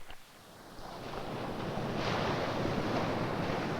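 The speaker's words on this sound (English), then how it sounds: "They continue traveling until they meet an obstacle, in this case, the shore of the lake." Wind-driven waves wash against a lake shore in a steady, building rush, mixed with gusty wind buffeting the microphone.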